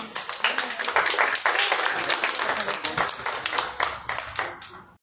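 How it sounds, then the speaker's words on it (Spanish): A burst of lively clapping from a crowd at an art exhibition opening, dense and close, swelling then tapering off over a few seconds. "Fuerte el aplauso para usted"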